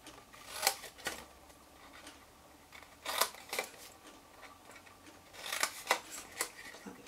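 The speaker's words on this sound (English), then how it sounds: "You just snip up all of those." Scissors snip along the score lines of a small paper treat box, crisp cutting clicks coming in close, quiet clusters of two or three with short pauses between.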